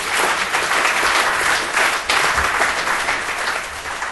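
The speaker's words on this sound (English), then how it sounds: "if you give them a round of applause to welcome to the stage" A conference audience at a retail property event on insolvency applauds to welcome panellists to the stage. The clapping is dense and sustained throughout, fairly loud, with no speech over it.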